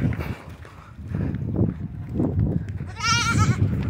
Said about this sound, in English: These goats are chasing me,